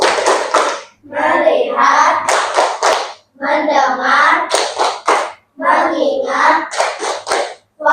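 Children play a rhythmic clapping game, sharp hand claps in quick patterned bursts alternating with chanted group speech, close and loud.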